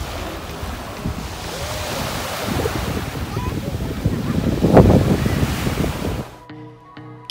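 Surf and wind at Pointe Marin, a white-sand beach, as a steady broad wash of waves with gusting wind buffeting the microphone and one louder surge before the noise suddenly drops away at the end.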